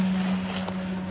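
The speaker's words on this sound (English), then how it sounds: "And we're using the BCS. That's a rotary plow." A BCS 749 rotary plow with a gear-driven Honda motor runs with a steady, loud, low engine hum that holds an even pitch throughout, with no talking.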